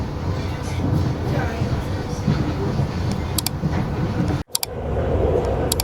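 A Beijing subway train on a suburban line runs above ground, giving a continuous loud rumble and rattle of wheels and carriage, broken by a sudden brief dropout before the running noise resumes.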